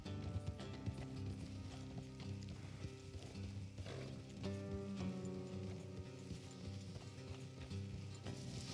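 Horses gallop in the video game Red Dead Redemption 2, their steady rhythmic hoofbeats continuing throughout under background music and game ambience.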